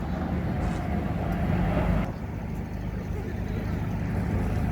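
Heavy jet aircraft flying a slow roll at a seaside airshow in Eastbourne, heard as a steady distant engine roar that dips slightly partway through, under a commentator's voice.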